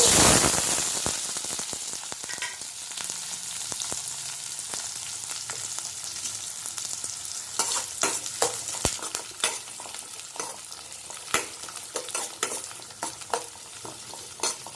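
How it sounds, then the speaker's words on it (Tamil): Chopped shallots frying in hot oil with cumin for a fish curry, a steady close sizzle with repeated scraping stirs and crackling pops throughout, no talking. "சின்ன வெங்காயம் பொடியாக கட் பண்ணி வச்சுருக்கிறத நம்ம அதில் சேர்த்துடலாம்."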